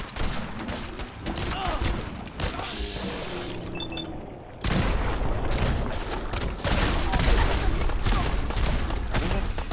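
Gunfire and explosive bursts from shooting a frag mine in Fallout 4 Far Harbor, dense and loud, with a sharp break midway into heavier sustained blasts and rumble.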